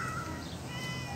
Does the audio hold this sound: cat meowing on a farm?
yes